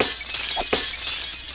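A glass window shatters when punched in the game 7 Days to Die, with two quick, loud crashing bursts of breaking glass close together over a bright, steady background hiss, with no talking.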